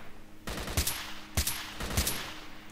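Single aimed rifle shots in S.T.A.L.K.E.R. Call of Pripyat: about five sharp reports spaced under a second apart, each with a short echoing tail, fairly quiet overall, with no speech.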